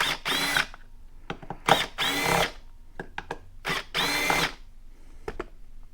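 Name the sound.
power tool removing 8mm bolts on a 2022 Honda Grom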